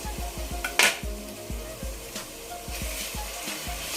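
Tomato pulp fries in a pan for a fish curry, giving a steady close sizzle with repeated soft taps of a spatula against the pan and one brighter scrape.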